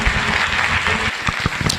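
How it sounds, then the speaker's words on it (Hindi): A seminar audience claps to welcome a speaker onto the stage. The applause is loud and steady throughout, with a few sharper individual claps standing out near the end. "अभी आप लोग थोड़ा क्लैप करिए और प्रतिमा जी को यहां बुलाइए एक बढ़िया ताली से"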